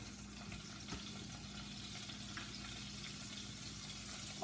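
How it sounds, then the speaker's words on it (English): Onions sautéing in a pan for a potato gravy sabji give a steady, soft sizzle throughout, with a few faint stirring clicks and no talking. "now I'm putting the onions, and I'm going to saute onion a little bit"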